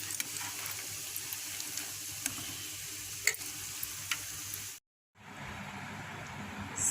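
Sweet corn vadas fry in hot oil with a constant close hiss and bubbling sizzle, dotted with small crackles. The sound cuts out briefly near the end, then the sizzle resumes.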